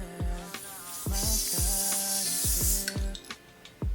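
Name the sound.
spray being applied to a wig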